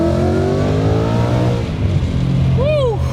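Supercharged Ford Mustang revving hard with a loud, rising supercharger whine after its factory airbox was removed, a steady close engine drone with a whine sweeping upward near the end.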